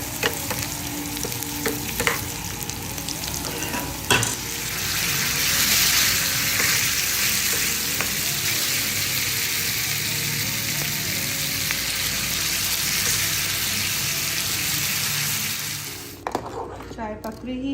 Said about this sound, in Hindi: अदरक का तड़का लगा रही हूँ मैं दाल माश को।